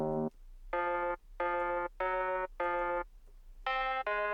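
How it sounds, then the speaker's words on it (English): A looped clav or electric-piano chord repeats in a short stabbing rhythm for a garage and old-school house track. There are seven bright, evenly spaced hits, each clearly separated, and no voices are heard. "grab a piano or some sort of clav or electric piano or something like this, and loop it"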